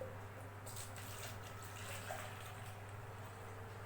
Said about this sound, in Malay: mula ambil satu jug air ini, tuangkan ke dalam botol plastik